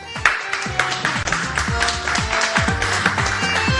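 A studio audience on a Turkish weekend morning television show applauds to welcome a guest, with brisk clapping and tapping close by and sounds of movement underneath.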